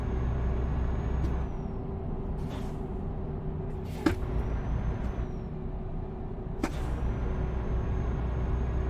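Truck air brakes in Euro Truck Simulator 2, three or four sharp hissing releases over a steady loud engine rumble, spaced a couple of seconds apart, with no talking.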